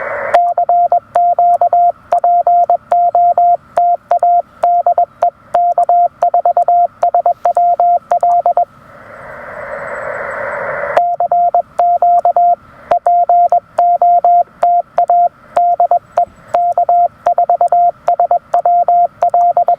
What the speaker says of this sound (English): adjusting the side tone ratio for how loud the side tone is compared to the AF gain